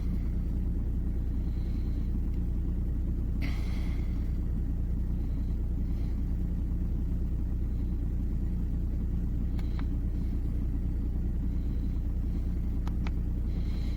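A cold car engine idles with a low, steady rumble and slightly wavering revs, close by, with faint clicks and small noises over it.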